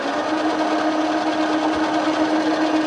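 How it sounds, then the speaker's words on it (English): Sewer Slinger pipe-cutting machine spins up its cutting head, giving a steady, close, high-pitched mechanical whine throughout. "Crank up our cutting head"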